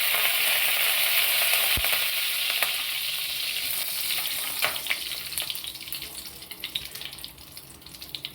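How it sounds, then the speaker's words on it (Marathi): Cumin seeds and curry leaves frying in hot oil for a mixed vegetable bhaji, a steady close bright sizzle with a few sharp pops and crackles that gradually thin and settle, with no talking. "जिरं भाजलं का आपण त्यामध्ये कडीपत्ता टाकू"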